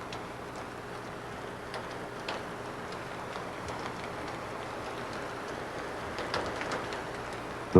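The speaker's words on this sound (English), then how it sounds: "Every June, the monsoons bring the rainy season." Monsoon rain falls at Angkor in Cambodia, a soft steady patter with scattered close drops, moderate in level and continuous without any voices.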